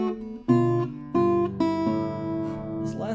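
An acoustic guitar fingerpicks a slow drag: a few distinct plucked notes and chords, close and clear, each ringing and decaying, with a steady bass movement underneath.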